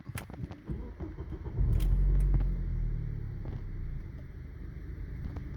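Worn cheap Australian hot hatch with 240,000 on the clock and a check engine light: its engine catches and settles into a low, steady idle rumble, fairly quiet and close, with no one talking.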